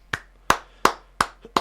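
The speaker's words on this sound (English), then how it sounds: "We'll give you a few claps for that." Five sharp, well-spaced hand claps at a steady rhythm, close and crisp with short decays, the last two coming slightly quicker, with no talk between them.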